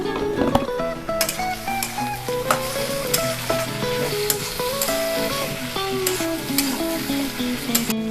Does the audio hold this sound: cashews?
yes